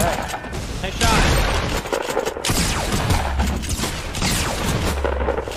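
Rapid gunfire bursts and booming shots from a Fortnite match, loud and continuous throughout, with a player's voice talking over the battle noise.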